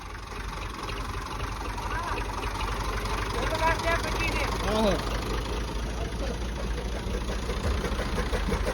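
A tractor engine idles steadily in a rural village, a low continuous rumble close by with a faint rhythmic knock, while people talk over it.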